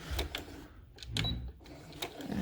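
A sewing machine back-stitching tulle, with short bursts of rapid mechanical needle chatter broken by brief pauses, close and alone.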